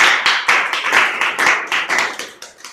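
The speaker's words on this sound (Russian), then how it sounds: "Давайте поаплодируем." An indoor audience at a school event claps in a lively burst of applause, dense overlapping hand claps that stay loud and then taper off toward the end.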